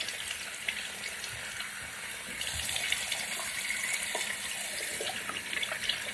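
Tap water running into a sink during face washing, a steady soft hiss and splash that swells slightly midway and continues unbroken, fairly close and moderately quiet, with no voices.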